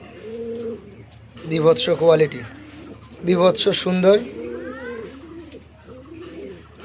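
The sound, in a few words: Lahori pigeon cooing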